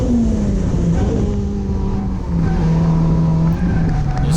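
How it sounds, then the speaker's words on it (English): A car spins Kenda KR20A 195/55R15 drift tires pumped to about 55 psi in third gear: a loud, steady engine drone holds high revs, with tire squeal running underneath and no talk. "I had to pump up the tire pressure to about 55 psi so I could spin them in third gear."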